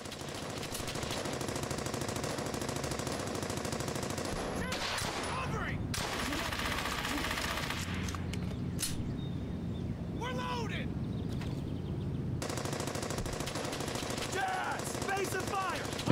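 Sustained machine gun fire rattles in the World War II shooter game Brothers in Arms: Hell's Highway, dense rapid bursts with brief gaps and scattered explosions, while someone talks over the gunfire.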